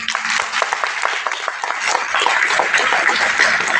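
Loud, dense applause from an audience at an agricultural product presentation, steady and sustained throughout with no pauses.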